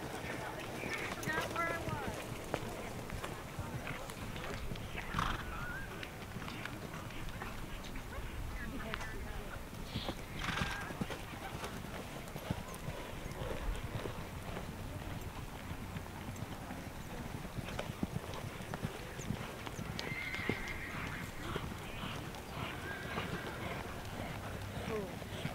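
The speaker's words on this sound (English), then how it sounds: "Canter your horse." Hooves of horses cantering beat a steady, repeating clip-clop rhythm at a riding camp, moderately close, with voices talking faintly over them throughout.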